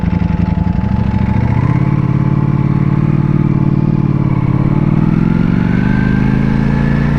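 A Ducati Panigale V4S motorcycle on a ride produces a loud, continuous engine drone close to the microphone, with the pitch gradually rising and settling over several seconds and no speech.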